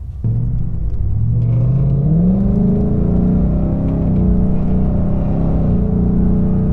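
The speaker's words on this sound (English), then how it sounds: "This car is fitted with the MagnaFlow Axleback exhaust kit that really gives the Mustang a low growl at idle" A Ford Mustang GT King Edition with a MagnaFlow axleback exhaust revs loud and close, its deep growl climbing in pitch early on and then holding a steady, rumbling drone with no talking.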